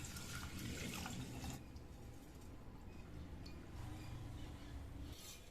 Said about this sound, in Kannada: ಈಗ ನಾನು ಇದಕ್ಕೆ ನೀರು ಹಾಕೊಂಡ್ಬಿಡ್ತೀನಿ